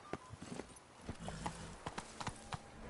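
Hooves of Roach, the horse in The Witcher 3, clop in a quick uneven rhythm of sharp, close hits over a soft rumbling bed, quiet and without talk.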